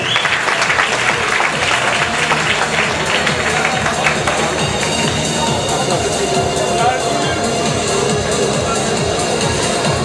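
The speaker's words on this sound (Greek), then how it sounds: "Ένα χειροκρότημα, κατηγορία fitness." Sustained audience applause at a men's fitness bodybuilding contest, loud and dense clapping from a large crowd continuing steadily throughout with a murmur of voices underneath.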